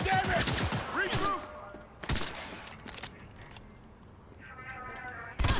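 Gunfire in a Cyberpunk 2077 street fight against Militech forces: sharp loud bursts of shots, dense at the start and again near the end, mixed with voices and combat noise.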